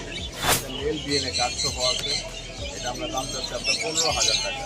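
Pet birds, including a red factor bird, chirp and tweet at the Mirpur 1 bird market, with busy overlapping calls and the market's crowd murmur. People talk throughout.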